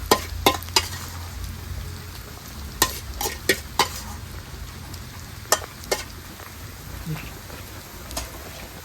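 Egg fried rice with onions, tomatoes and chillies is stirred and fried in a pan outdoors in the rain. Sharp, irregular spatula scrapes and clinks ring out over a steady sizzle and the hiss of rain.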